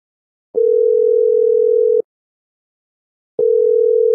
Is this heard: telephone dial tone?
yes